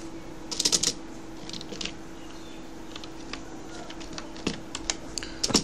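Computer keyboard keys clatter in quick bursts of typing, close and crisp, with short pauses between clusters of keystrokes over a faint steady hum.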